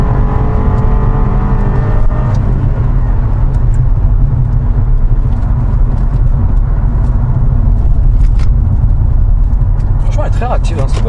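Inside a Cadillac STS with a manual gearbox, the engine hums and revs steadily as it drives while people talk over the noise.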